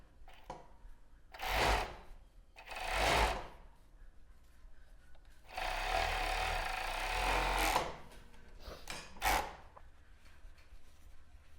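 A sewing machine stitches a child's bra in a few short bursts separated by pauses, with one longer steady run in the middle, close and moderately loud, with faint handling sounds between.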